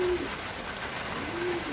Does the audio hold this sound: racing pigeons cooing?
yes